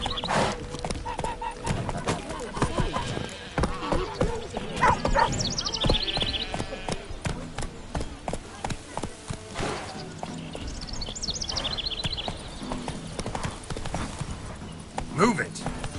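Rhythmic hooves clip-clopping steadily on a horse in The Witcher 3: Wild Hunt, with occasional whinnies, game music and a voice talking over the galloping.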